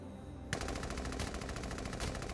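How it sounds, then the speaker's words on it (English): Rapid machine gun fire in the video game Valkyria Chronicles 4, a dense burst of rattling shots that begins abruptly and continues without pause. "No, two enemies up ahead. Open fire, Scott."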